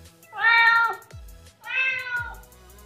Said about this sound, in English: This is a Siamese cat.